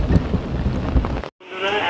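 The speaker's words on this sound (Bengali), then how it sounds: "তো বৃষ্টি পড়ে যাচ্ছে কন্টিনিউয়াসলি, এখন তো আরও জোরে হচ্ছে।" Heavy, continuous rain pours during a daily downpour, a dense close roar of drops on surfaces that breaks off abruptly for a moment and then resumes.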